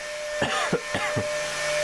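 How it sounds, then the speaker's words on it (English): Three or four short, harsh coughs in quick succession, close by, over a steady mechanical hum with a faint electrical whine from a running ZVS driver and high-current transformer. "Sorry about my cough."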